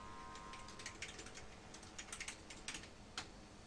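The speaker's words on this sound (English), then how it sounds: "We type in our password and we're granted access to" A computer keyboard tapped out a password at a command-line prompt: a quick run of light, close key clicks in an irregular rhythm, quiet throughout.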